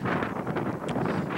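Wind rushes past a cyclist riding downhill into the Columbia River Gorge, making a brief, fairly soft, rumbling gust against the microphone.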